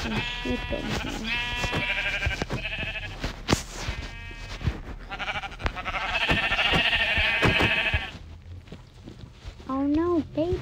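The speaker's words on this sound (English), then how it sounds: "I have so many sheep that they're trying to escape." Repeated sheep bleats from a Minecraft game, several animals calling in quick overlapping bursts through most of the stretch, loud and close, with in-game clatter and a speaking voice underneath.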